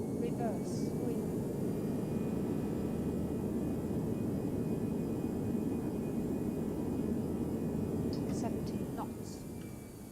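A ToLiSS A319 airliner in X-Plane 11 roars with a loud, steady rush of jet reverse thrust on landing, holding level and then easing off slightly toward the end, with a few faint electronic chirps over it.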